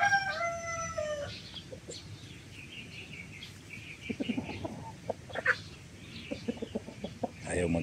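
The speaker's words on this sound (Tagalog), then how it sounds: "Ito yung mga tandang" Rhode Island Red and Black Australorp roosters crow at the start with long rising calls, followed by scattered clucking and short bird calls against a low rumble of background noise.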